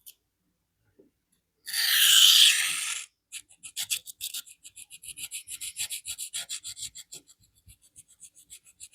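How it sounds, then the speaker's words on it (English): A Maxamet steel knife is ground on an extremely coarse diamond plate. One long harsh rasping stroke comes first, then a quick run of short, evenly spaced scraping strokes, close up with no talk. "Using the corner of the stone, trying to get that right up against the plunge."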